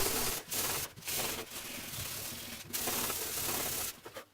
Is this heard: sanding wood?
yes